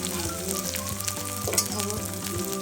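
Onion, ginger and garlic sizzle steadily in a hot pan for a Nepali potato and bitter-gourd curry, a continuous close crackling fry with faint scraping and no voices.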